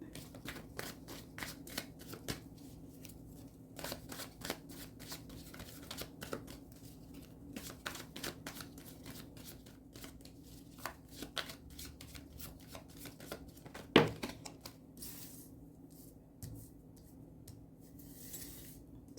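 Tarot cards being shuffled by hand, a steady run of soft crisp riffles and flicks close by, with one sharper snap partway through and a faint low room hum beneath.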